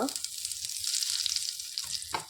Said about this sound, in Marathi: जिरं टाकून झालेले आहे पाव टीस्पून हिंग